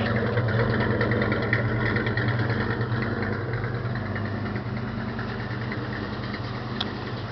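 A 1967 Dodge Dart drag car with a 383 stroker V8 idles steadily and loudly, a deep, even rumble that holds on alone throughout.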